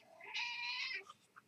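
A cat gives one clear, drawn-out meow, close and fairly loud, followed by a couple of short soft chirps, with no talking around it.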